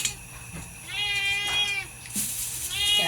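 A cat meows several times up close in a home kitchen where fish is being scaled, its drawn-out, wavering calls coming in quick succession over faint background clatter.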